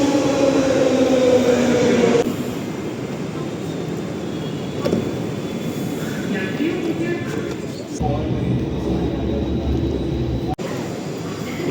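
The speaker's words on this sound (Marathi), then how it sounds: "आपली मेट्रो आली आहे बघा गाईस. आणि ही ब्ल्यू लाईनची मेट्रो आहे" A Mumbai Metro Blue Line train toward Versova runs with a steady, loud rumble and hiss that shifts in tone partway through, as if braking or passing a section, with a sharp drop near the end and scattered talk over it.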